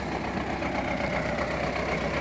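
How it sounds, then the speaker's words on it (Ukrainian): An MTZ tractor engine runs steadily while standing in a ploughed furrow, giving a continuous low idling rumble at close range with no speech. "Ось трактор в борозді стоїть."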